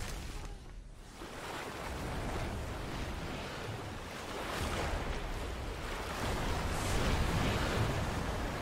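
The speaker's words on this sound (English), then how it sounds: "A water tornado." A swirling water tornado in an animated fantasy show roars as a dense, sustained rush of churning water and wind, steady and loud throughout with a slight swell near the end.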